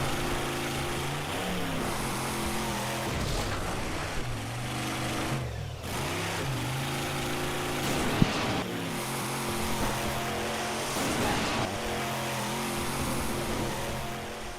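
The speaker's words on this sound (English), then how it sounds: "Duke's monster truck is a Dodge Ram" Duke's Dodge Ram monster truck engine in a Duke Nukem video game: a steady droning motor with wavering pitch that rises and dips as it revs, continuous and fairly loud throughout, with no voices.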